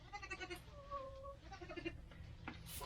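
Goats on a farm in frigid weather give a few short, faint bleats amid quiet outdoor background noise, with no clear speech.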